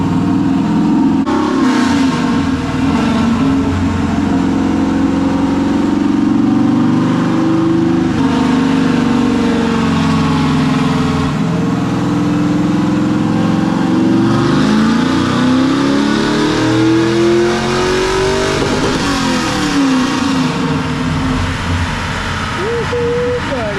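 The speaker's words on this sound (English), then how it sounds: "it tapped the rev limiter, so it's sounding good" A junkyard 6.0 engine revs hard and loud close by, its pitch climbing in repeated sweeps up to the rev limiter before falling back.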